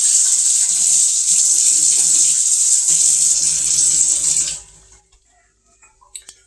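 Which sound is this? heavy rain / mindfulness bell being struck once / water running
water running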